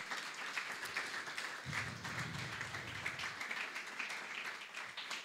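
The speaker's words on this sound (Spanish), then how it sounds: "Dele un aplauso al Señor. Déselo fuerte." A church congregation claps steadily and fairly loudly throughout, a dense wash of applause with no pauses.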